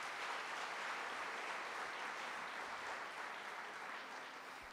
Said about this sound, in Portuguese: Pode aplaudir o Senhor Jesus.